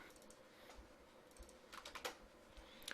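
Keys pressed on a computer keyboard while setting up 3D morph controls: scattered, fairly faint clicks and taps, with a small cluster near the end, over a quiet room background.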